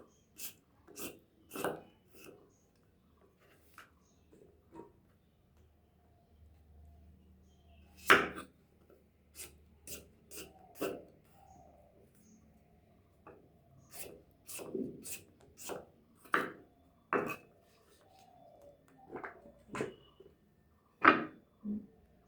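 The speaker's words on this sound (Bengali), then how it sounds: "এবার এই পেঁপেগুলো আমি এখন কেটে নেব" A knife chopping green papaya for a potato-papaya curry, close, crisp cuts on a board in irregular bursts separated by brief pauses, with a quiet low rumble in the background and no talking.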